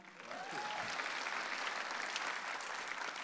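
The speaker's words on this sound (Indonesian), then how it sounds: "beri tepuk tangan dulu buat mantan juri kita, Raditya Dika" Audience applause for former judge Raditya Dika at a stand-up comedy show, a steady, dense wash of clapping sustained throughout with faint crowd noise underneath.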